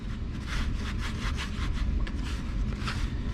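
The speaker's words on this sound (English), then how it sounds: "I like to screen the first bit of it because it loosens up the sand real good" Petrobond casting sand is screened into a mold for pouring a fine silver arrowhead, giving a continuous close gritty rubbing and rasping with faint rhythmic pulses and no talking.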